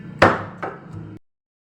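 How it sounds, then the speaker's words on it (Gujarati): Red chili is pounded into chutney in a mortar, giving two sharp, knocking thuds close by, each with a short ringing tail, before an abrupt silence. "એક ચમચી જેટલું આપણે લાલ મરચું ખાંડીને ચટણી તૈયાર કરી લઈશું"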